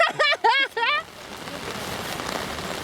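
Steady rain falling on a surface at an outdoor youth football match, a constant hiss of drops that follows a brief burst of speech at the start.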